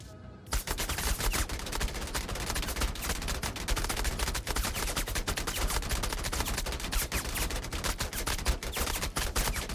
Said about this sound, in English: Kaler asked for permission to shoot the dead bodies